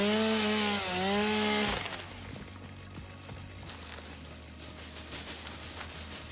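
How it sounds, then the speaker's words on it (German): Chainsaw cutting through plants in the video game Satisfactory, a steady buzzing drone with a short rising whine at the start, then a lower continuous grinding rasp, moderately loud and close. "Vor allem, wenn man mir eine Kettensäge gibt."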